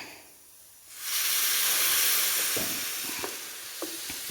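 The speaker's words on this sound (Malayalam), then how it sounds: "ഇനി നമുക്കൊരൽപ്പം വിനാഗിരി ഒഴിച്ചു കൊടുക്കാം" Coconut vinegar poured into hot chilli-oil mixture sets off a sudden loud hiss and sizzle that swells and holds, with a few faint stirring taps as it settles.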